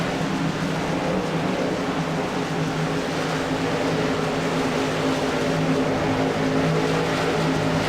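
Race car engines roar at a restart as the pace car pulls in, a dense, steady, loud mechanical drone from several cars at once with little change in level.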